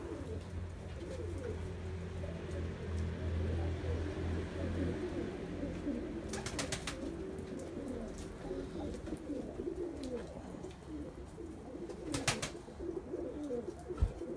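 Pigeons coo steadily inside a pigeon loft, a dense, continuous layering of soft throaty calls from many birds close by, with a few brief fluttering or rattling bursts and no talking.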